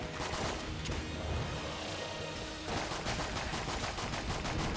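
Dense, rapid gunfire from the Enter the Gungeon video game crackles continuously through the whole stretch, with a brief dip in the middle before the shooting picks up again.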